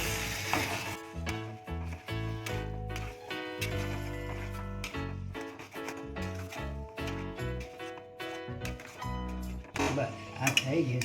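A healthy snack frying in a pan is stirred and mixed, with sizzling and repeated scraping and clinks of a utensil against the pan, close up, under background music and occasional talk.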